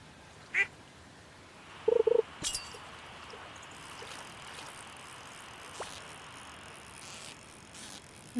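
Pet ducks on a farm in a video game give a few short, clipped quacks near the start, followed by faint game ambience and scattered soft clicks.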